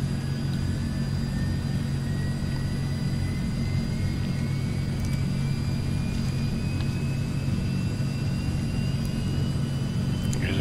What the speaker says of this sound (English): So now the right engine will start.